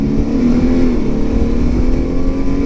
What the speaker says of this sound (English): This is full throttle.